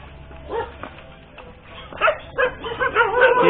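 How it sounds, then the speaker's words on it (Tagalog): Several dogs at a relative's house in San Jose del Monte, Bulacan bark and yip in short bursts, growing louder and busier toward the end, with a low engine-like hum beneath. "Ayun, maraming aso."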